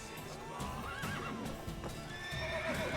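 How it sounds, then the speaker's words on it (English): Horses in The Witcher 3 video game whinny with rising and falling neighs over steady clip-clopping hooves, close and fairly clear, with a few sharp knocks between. "let's try not to hurt the cat or the horses."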